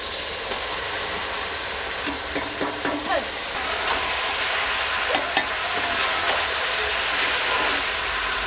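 Boiled banana flower goes into a pan of sizzling chicken curry, a steady frying hiss punctuated by several sharp clicks and scrapes of stirring close by.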